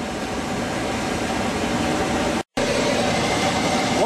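Conveyor belt machine in a print shop, carrying cards through a wall into a glitter thermography unit, runs as a loud steady mechanical hum and whir, broken by one very brief dropout.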